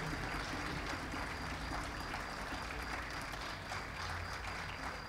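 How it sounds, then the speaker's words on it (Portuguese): Distant, steady clapping from a large audience after a choir performance, a continuous wash of hand claps with no pauses. "queria mais uma vez pedir uma grande salva de palmas para este coro fantástico"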